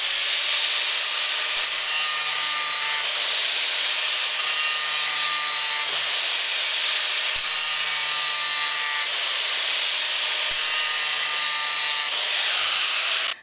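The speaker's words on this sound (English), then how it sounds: "This is a cutoff wheel." A cutoff wheel grinds against a powder-coated metal piece, a loud continuous high-pitched abrasive screech that runs unbroken for over twelve seconds, with the tone dipping slightly every few seconds as pressure changes.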